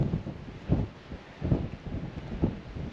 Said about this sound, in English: Gragareth ridgeline. Bit breezy.